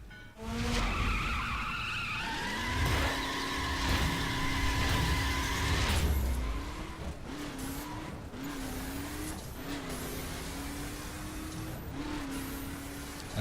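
A utility vehicle in the racing game The Crew accelerates hard on a circuit, engine revving up through several gear changes, with tires skidding and squealing; loud and continuous throughout.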